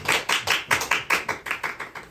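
Audience applause greeting the introduced participants of a group reading event, heard as about nine evenly spaced, crisp clap-like bursts, fairly close and moderately loud, with no voices.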